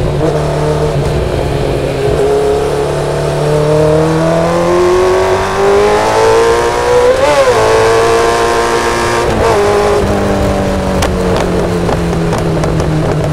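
A Kawasaki Z900 with a loud full exhaust revs and pulls hard, its engine note climbing and dropping through several sharp blips and a roaring surge, loud and close throughout.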